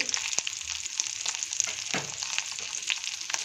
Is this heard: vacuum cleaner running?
no